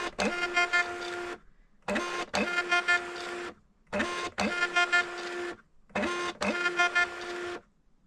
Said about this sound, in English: So for now, I'm just going to print 5 and just click print.